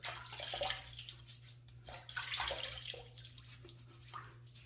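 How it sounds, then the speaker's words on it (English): Running warm water splashes and trickles continuously nearby, with intermittent wet splashes as hands scoop water and rub it on the face before shaving, over a low steady hum. "I'm going to go ahead and I'm going to wet my face with some warm water."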